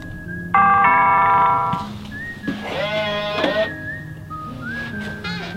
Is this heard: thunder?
no